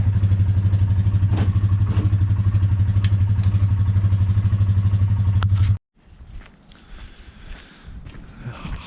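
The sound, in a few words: quad ATV engine driving off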